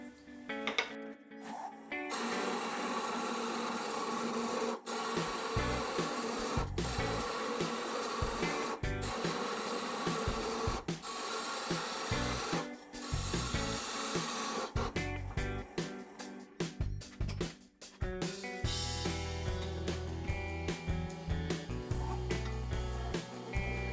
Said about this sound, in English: then I'll use the skew chisel and fine tune it until it fits